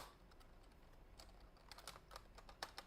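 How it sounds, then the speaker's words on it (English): A computer keyboard clicks in an irregular burst of keystrokes, quiet and close, with the taps growing denser and louder toward the end. "I must be hitting some crazy keys."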